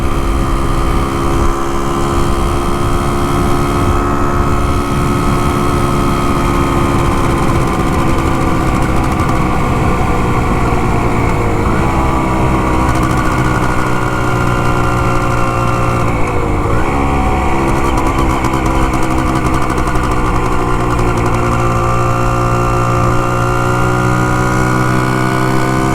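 A vintage Can-Am 250 TNT motorcycle running hard on a test ride, its buzzing two-stroke engine loud and close throughout, pitch wavering as the throttle rises and falls, with no talking.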